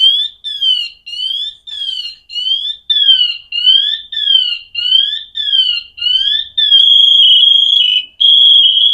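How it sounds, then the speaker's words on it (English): Firefighter PASS device alarm shrilling close and loud: a rapid series of rising-falling chirps about twice a second, then switching to a steady piercing tone, alone with no talk. "you'll be able to hear what a siren sounds like for a firefighter. It's called a pass device."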